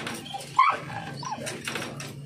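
A Belgian Malinois gives a brief high whine, then softer whimpering follows, close and fairly quiet, on reuniting with its owner after a month apart.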